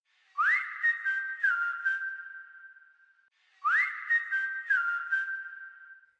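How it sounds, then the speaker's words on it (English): A whistled melodic phrase played twice, each with a rising slide and a few held notes that trail off in a soft reverberant tail. "So there's a whistle and then a whistle reverb he sent me"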